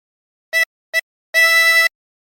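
Three blown notes on a 20-hole tremolo harmonica at hole 15, two short puffs then one longer sustained tone, clear and close with silence between, no talking.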